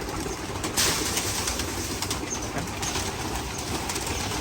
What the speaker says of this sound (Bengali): খাবার খাওয়ার পরে কবুতরগুলো এই যে পানি খাওয়ার জন্য সবাই চলে আসছে, সব কবুতর পানি খাচ্ছে